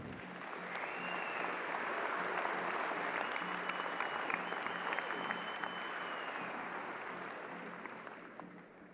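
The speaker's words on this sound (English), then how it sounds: "Let's give them one big round of applause." A crowd at the World Dairy Expo International Holstein Show gives a round of applause in a show ring, a broad, sustained wash of clapping that swells and then slowly fades.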